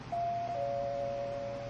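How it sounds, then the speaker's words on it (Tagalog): A doorbell gives a single sustained electronic tone that steps slightly lower partway through and holds against a low background hum. "Nag-doorbell na sila."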